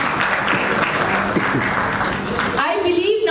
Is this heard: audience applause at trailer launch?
yes